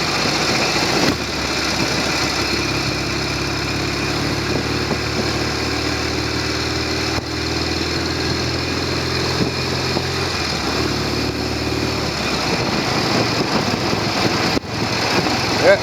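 Norton Commando 750 motorcycle engine idling at about 1100 RPM: a steady, loud, close throbbing tickover that continues throughout with slight shifts in pitch.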